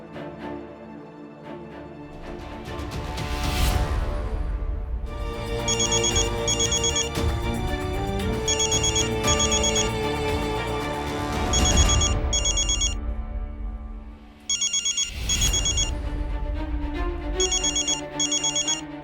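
A telephone rings after a call is placed back to a number, with a melodic ringtone repeating in steady cycles, clear and fairly loud and alone.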